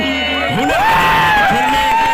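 At a nighttime village stage show, a crowd cheers and whoops loudly as a singer arrives on stage, with rising whistle-like tones over the continuous roar.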